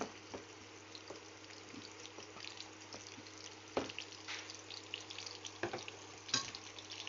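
Chopped onions, about a cup, fry in soybean oil in a pan at medium heat with a soft, steady sizzle, broken by a few sharp clinks and stirring scrapes, fairly quiet and without talk.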